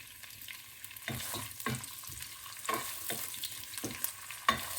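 Six garlic cloves frying in a pan, stirred periodically, with a steady soft sizzle broken by repeated louder scraping stir strokes, close and alone without talk.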